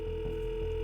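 A short continuous telephone line tone heard while calling a phone number, steady and mid-level over low background hum.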